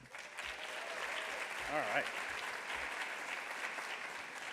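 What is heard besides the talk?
audience applause at an award ceremony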